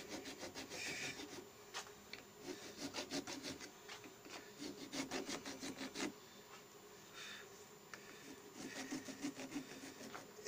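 A metal file is worked by hand on a part from a Motobécane shock absorber, making rough, scraping rasps in uneven strokes. The strokes come in clusters with short pauses and sound fairly quiet and close.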